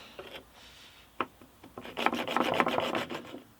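Hand-held chisel worked against wood, giving dry rasping rubs: a few scattered scrapes, then a dense run of rhythmic back-and-forth scraping, close and moderately loud.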